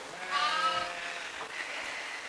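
A Romanov sheep bleats once in a clear, wavering call at close range, followed by quieter farmyard background noise.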